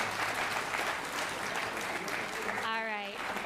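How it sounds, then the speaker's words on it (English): Audience at a school board meeting claps in a steady, moderately close round of applause, with a voice rising briefly near the end as the clapping continues. "Can we give them one more round of applause?"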